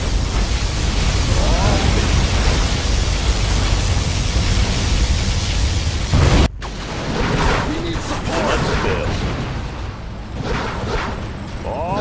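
A particle cannon fires in Command & Conquer Generals Zero Hour: a loud, sustained roaring energy blast with a sharp cut midway, followed by rumbling explosions and whooshes in a busy battle scene.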